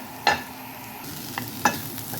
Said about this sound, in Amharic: ሽንኩርቱን ዘይት አላደረኩም። ዝም ብዬ ትንሽ ጠበስ አደርገዋለሁ ማለት ነው።